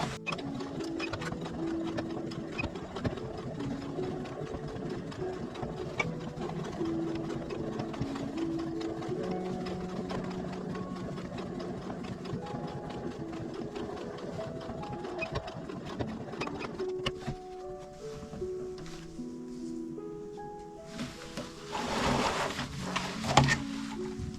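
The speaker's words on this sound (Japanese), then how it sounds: "で反対側もこう12センチ縫っていきます。" A sewing machine runs steadily as it stitches fabric for a tulip-style bag, its rapid mechanical whir continuous and close before slowing and stopping near the end, followed by faint handling noise.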